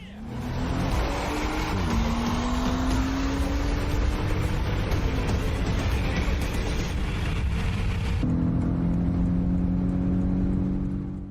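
Two powerful race sedans accelerating hard side by side in a street race, a loud sustained engine roar with rising revs and gear shifts, close and dominant throughout.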